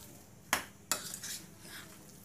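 Sandwich filling mixed with coriander chutney and tomato sauce in a bowl, two sharp utensil clinks followed by soft, faint stirring and scraping, quiet and close with no talking.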